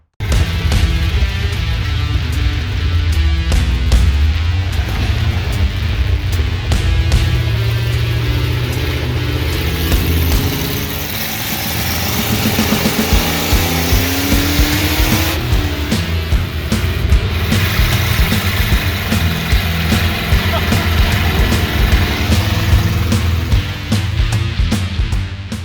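A Dodge W100 truck with a 360 engine idles steadily and loud for the whole stretch, a constant low rumble with some brief rises and shifts in tone, no voices over it.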